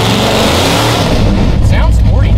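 A powerful engine revs hard and loud up close, with a rising, snarling rumble that climbs in pitch toward the end while people talk over it.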